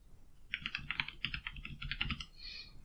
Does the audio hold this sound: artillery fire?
no